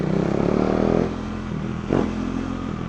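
A KTM Duke 390 motorcycle engine idles smoothly and steadily up close, with a brief rise in revs near the end.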